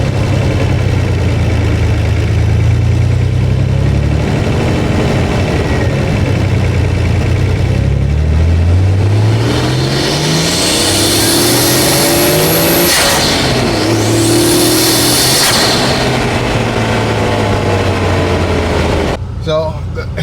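A Nissan Stagea 260RS engine fitted with HKS cold air intakes, heard up close from inside the engine bay, idles with a deep burble and then revs sharply up and down several times before settling back to idle.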